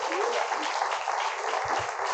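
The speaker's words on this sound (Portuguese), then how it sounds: "Aplauda bem forte ao Senhor." Church congregation applauding during a worship service, a steady wash of clapping at moderate level, with a few low thumps near the end.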